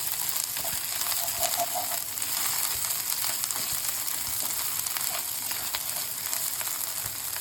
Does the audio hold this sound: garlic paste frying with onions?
yes